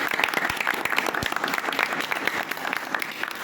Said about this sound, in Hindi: बजाइए तालियां आप।